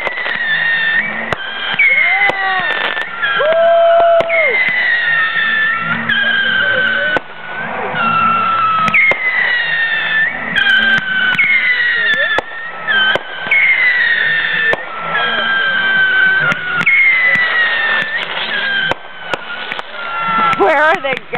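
Fireworks at the Kingdom Fest outdoor festival, loud bursts and crackles repeating steadily over about twenty seconds amid whistling, rising and falling tones, close and booming, with occasional voices of the crowd.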